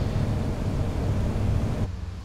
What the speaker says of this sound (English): You may notice these engine sounds, by the way.